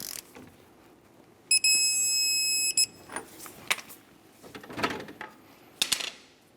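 A click-type torque wrench sets the front axle nut of a 2004-2006 Scion xB to 159 foot-pounds, with a sustained high electronic tone and scattered clicks and clanks from the work.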